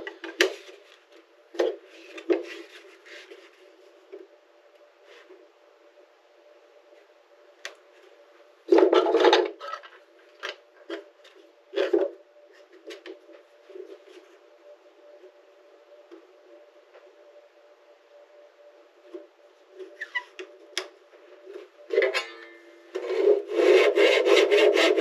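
A hand saw cuts wood on a side bending setup in short, irregular scraping strokes that are fairly quiet and close, with quiet pauses between them.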